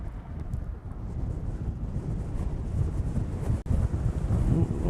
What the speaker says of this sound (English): the wind is killing me here today